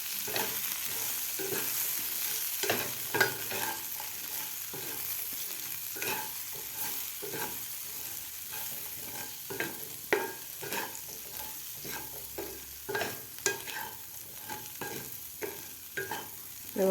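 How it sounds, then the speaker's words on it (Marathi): Spiced potato and pea chaat being stirred in a pan, with repeated scraping and stirring strokes in an irregular rhythm over a faint sizzle, close and fairly quiet, no talking. "आता आपल्याला व्यवस्थित मिक्स करून घ्यायचं आहे."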